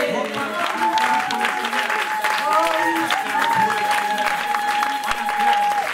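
Church congregation applauding and cheering during a sermon, steady clapping throughout with a voice speaking over it.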